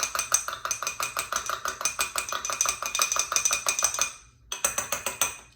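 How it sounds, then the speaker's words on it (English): A spoon clinks briskly against a bowl while broccoli slaw dressing is mixed, a steady rhythm of bright, close taps that stops briefly before resuming. "And I just mix it a little bit to get it off the spoon."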